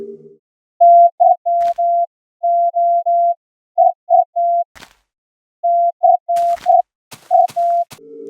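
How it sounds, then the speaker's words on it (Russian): Morse code beeps from a strange in-game sound in a creepy version of Minecraft: a steady mid-pitched tone pulsing in short and long dashes in uneven groups, loud and clear, with brief clicks and a faint low hum at the edges. "Это азбука Морзе"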